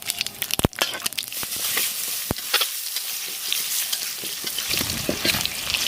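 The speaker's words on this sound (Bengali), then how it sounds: "তো আমরা তেলের মধ্যে কিছু ফোড়ন দিয়ে দিব তার জন্য দিব প্রথমে জিরা আর দিব গোটা সরিষা" Cumin and whole mustard seeds frying in hot oil for tempering, a bright crackling sizzle with sharp pops and spatters scattered across the clip, close and loud.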